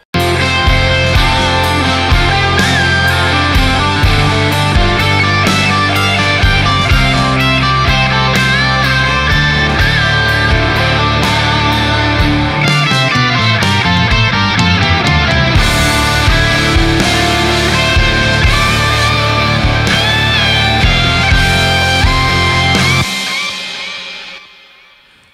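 A punchy, tightly compressed EZ Drummer 2 drum kit plays with steady hits, full and upfront, mixed with other instruments, then stops abruptly near the end.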